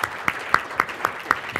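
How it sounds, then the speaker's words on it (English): Clapping at a CEO mid-market convention comes as a short run of crisp, evenly spaced claps in a quick steady rhythm, about four per second, close and moderately loud. "Let's give George a round of applause."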